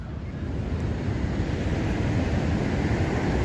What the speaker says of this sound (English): Big waves peeling off.